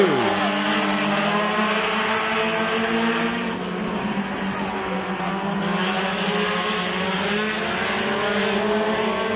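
Race cars at the McKean County dirt raceway roar past in a pack, engines droning and rising and falling in pitch as they swing off the turn and down the straightaway, with a commentator's voice under the noise.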